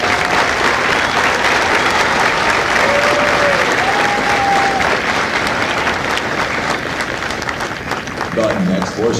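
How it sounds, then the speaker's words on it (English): Crowd applause at a Marine Corps recruit graduation ceremony at MCRD San Diego, a loud continuous outdoor wash of clapping and cheering from a large audience, sustained throughout with a few whistles rising above it. "please join me in a round of applause for the Company Staff of Company C."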